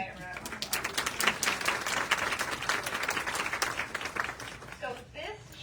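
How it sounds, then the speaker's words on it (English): An audience at a spring VIP fashion show in Peoria applauds Erin and Di, a broad wash of clapping that holds steady and then thins toward the end, with a voice or two emerging as it fades. "let's give both Erin and Di a round of applause"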